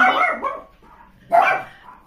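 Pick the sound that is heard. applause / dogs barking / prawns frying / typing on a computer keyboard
dogs barking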